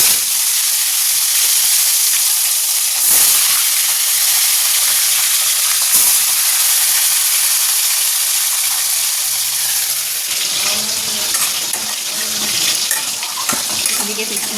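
Big fish deep-frying in a pan of hot oil in a home kitchen: a steady, loud broadband sizzle and crackle running throughout, with bubbling and spattering growing busier near the end and no talk.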